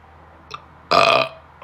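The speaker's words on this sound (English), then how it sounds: "those are top tier burps" A loud, close burp lasting about a third of a second with a rough, buzzy texture, preceded by a brief faint vocal sound against a quiet background.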